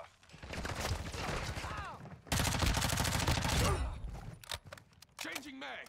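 Rapid automatic gunfire in the shooter game Modern Warfare 2 (2022) during a Domination match, dense bursts running almost nonstop and loudest in the middle stretch, with a voice talking over the shots.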